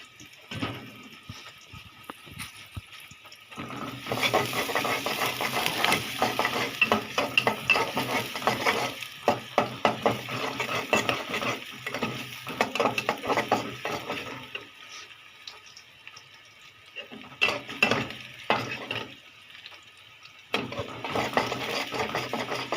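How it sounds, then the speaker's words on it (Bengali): Potatoes frying and being stirred in a pan for a potato bhaji, giving steady close sizzling with frequent scraping and clinking stirs, broken by short quieter pauses. "ভাজিটা করে ফেলছি আমি আজকে ভর্তা করিনি ভাজি করছি আলু ভাজি"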